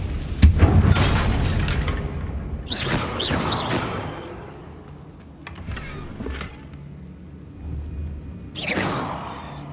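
Confringo fire-spell blasts in Hogwarts Legacy, several booming bursts with whooshing tails spaced a few seconds apart amid game ambience.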